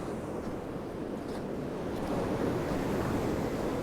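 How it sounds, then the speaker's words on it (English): Sea waves washing onto a beach at high tide on a cloudy, windy morning, a steady broad rushing surf with wind buffeting the microphone, swelling slightly louder midway. "Nana says the sound of the sea is very calming."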